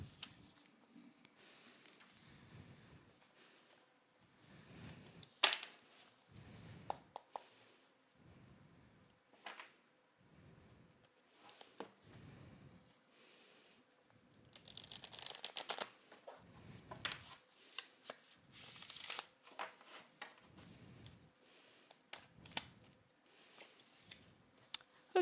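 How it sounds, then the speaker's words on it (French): Playing cards shuffled by hand for a card reading, repeated soft riffling and tapping bursts at close range in a quiet room, some bursts louder and denser, with no talking. "On va passer maintenant au tirage de cartes"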